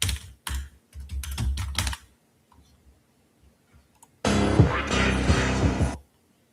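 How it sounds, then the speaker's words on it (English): Close computer keyboard typing in two bursts, first a quick sequence of distinct key clicks, then after a pause a dense rapid clatter lasting a couple of seconds. "The typing does considerably help with that."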